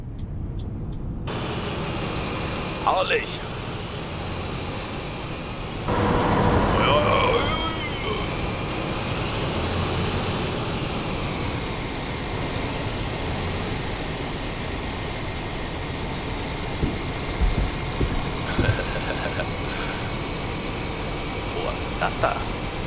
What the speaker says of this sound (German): Ach, schön hier mit dem Bus.